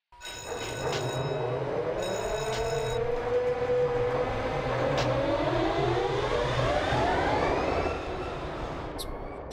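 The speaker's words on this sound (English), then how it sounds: "now I'll spawn another regular train" Freight train in the Run8 V2 railroad simulator on the Waycross line, a loud, steady rumble with rising and falling tonal whines and bright horn-like tones early on, continuing without voices.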